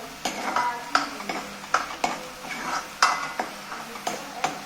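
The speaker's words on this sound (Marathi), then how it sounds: "हे चांगलं असं परतू द्यायचंय, म्हणजे याला चांगलं आतून तेल सुटेपर्यंत मसाला हा एकजीव झाला पाहिजे" Masala sautéing in oil for a Marathi gourd curry: a pan of spices stirred with repeated sharp scrapes and clinks of a spoon against metal at a steady rhythm, over a soft sizzle, close by.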